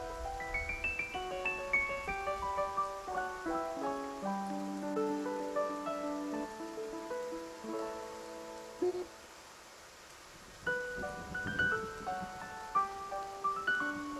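Soft patter of freezing rain in the video game Love and Deepspace under a gentle melodic tune of chiming notes, the music pausing briefly before resuming over the steady rainfall.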